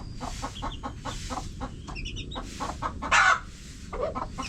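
Chickens cluck in steady, repeated bursts on a farm with a rooster, close and fairly loud, and one sharper squawk stands out partway through.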